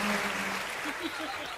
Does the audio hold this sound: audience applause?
yes